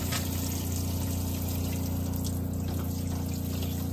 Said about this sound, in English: Showing that your water pump's working and your hot water is coming through there